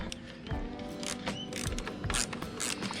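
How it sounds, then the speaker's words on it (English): A ratchet wrench removes the carburetor bolts on a Honda lawn mower, giving quick, close mechanical clicking in bursts throughout, fairly quiet, with no speech. "So in order to do that, I need to take these two bolts off."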